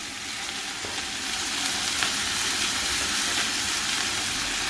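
Green chillies and chopped masala hit a hot pan and fry with a loud, continuous close sizzle that swells slightly after the first second, with no talking.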